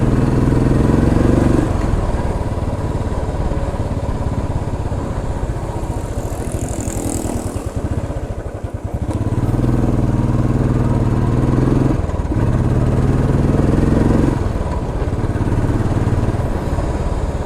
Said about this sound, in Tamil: ஸோ ரைடிங் சவுண்டு இது தான் உங்களுக்கு கேட்குன்னு நினைக்கிறேன்.